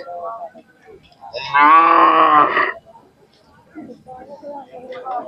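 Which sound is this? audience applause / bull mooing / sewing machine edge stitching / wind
bull mooing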